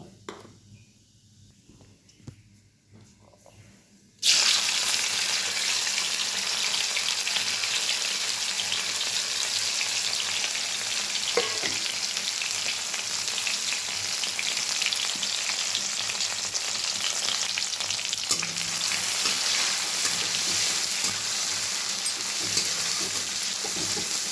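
Cumin seeds, bay leaf, chopped onion and tomato hit hot oil for Bengali ghughni: after a few quiet seconds a sudden loud sizzle bursts in and stays steady and close, with light crackling and occasional stirring.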